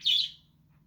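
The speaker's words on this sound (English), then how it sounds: "these birds are just like out of control. They're making a little much noise." One bird outdoors gives a single short, bright chirp, loud and near, that fades quickly over a faint low hum.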